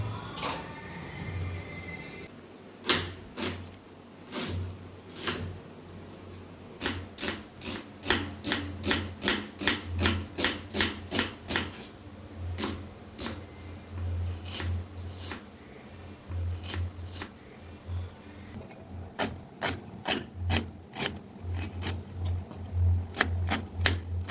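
Onions being cut with a knife in a home kitchen during morning cooking, a long run of sharp, regular chopping taps on a board, close and fairly loud, over a steady low hum.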